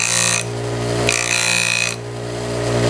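A bench grinder cambering a steel hand plane blade, with a steady motor hum and bright rasping grind rising and falling as the edge is pressed in light passes, no talking.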